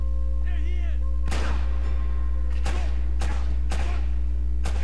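Gunshots in Uncharted: Drake's Fortune, at the Customs House: several sharp, loud booming shots spaced irregularly over a low steady hum, with a brief faint voice early on.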